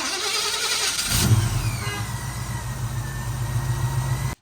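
A 1978 Chevrolet Nova engine cranks briefly, then catches and settles into a loud, steady idle with a low throbbing rumble, heard up close with no talking.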